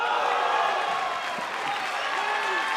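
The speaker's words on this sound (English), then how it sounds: "You can hear the crowd is getting up to it, and they're enjoying it." A crowd at a table tennis tournament applauding, a dense, steady wash of clapping filling the hall at even loudness, with faint voices mixed in.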